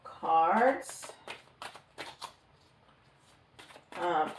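Tarot cards are shuffled and drawn in several quick papery riffles and flicks, loudest at the start and end, with a voice talking between them.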